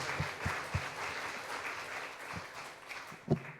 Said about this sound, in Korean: 우리 서로에게 격려의 박수 전하겠습니다.